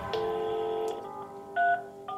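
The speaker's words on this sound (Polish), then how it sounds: "Profesor Pawłowski postanowił telefonicznie podzielić się wynikami badań." Telephone keypad dialing: a steady dual-tone beep held for close to a second, followed by shorter tone bursts with brief gaps between them, clear and alone with no voices.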